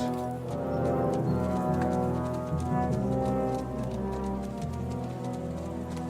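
Horses trotting in Kingdom Come: Deliverance 2, a steady clip-clop of hooves under dense layered music and ambient game sound, fairly loud throughout with no clear speech.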